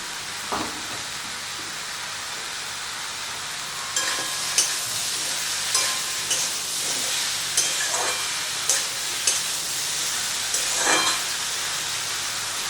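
Ridge gourd cooks in a pan with spices and salt, a soft steady sizzle broken by intermittent spatula scrapes and stirs at a moderate distance, no talking.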